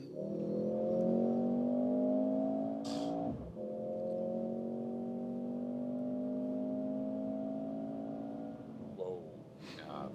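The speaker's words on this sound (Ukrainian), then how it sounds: "І ми можемо розігнатися ще раз, якщо ми вже на швидкості, і поїхали." Mercedes GLC 43 AMG accelerating in sport mode, heard from inside as a rising engine drone through two gear changes, with a brief voice between them.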